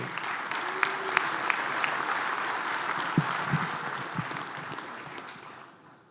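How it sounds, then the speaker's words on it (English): Audience applause at the U.S. Soccer Annual General Meeting's National Council session, honouring players, organizers and venue staff: steady, moderately distant clapping from a large room, with a few sharper claps and a low voice briefly mixed in, fading out at the end. "if you wouldn't mind giving a round of applause to everybody who showed up to play, everybody who organized this, and the staff"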